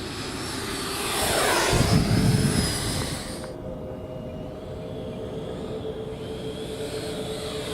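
Several 80mm RC model jets fly overhead, a loud whooshing engine roar building to a close pass and then fading into a steady distant drone.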